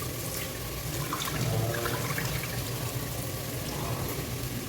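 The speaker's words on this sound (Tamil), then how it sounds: "அரிசியாக கழுவிடலாம்." Rice being rinsed in water for Dindigul mutton biryani, a steady close wash of splashing and running water that holds throughout, with no voices.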